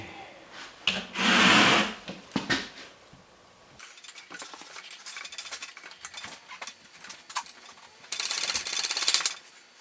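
A hand ratchet clicks in quick bursts while a bolt is snugged on the front wheel of a 2016 Honda Africa Twin motorcycle, with metallic tool clatter between the runs of close, crisp ratcheting.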